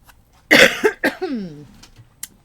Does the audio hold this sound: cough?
yes